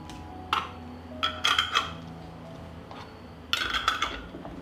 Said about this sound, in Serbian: Tegle zatvaram sa čistim i novim poklopcima.